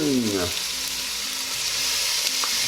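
Onions and bacon sizzle in a cooking pot in a steady, close crackle, with a few brief tonal squeaks at the start and no speech.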